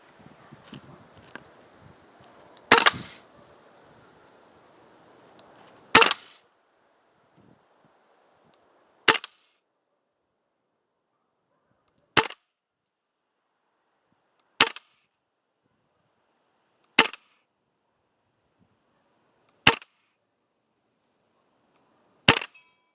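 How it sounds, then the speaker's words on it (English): A PTS Mega Arms MKM CQB gas blowback airsoft rifle fires eight sharp single shots through a chronograph, spaced a few seconds apart, each a crisp crack with a short clatter of the blowback action, with faint handling noise at first. "Let's put some rounds through the chrono, let's put some rounds downrange."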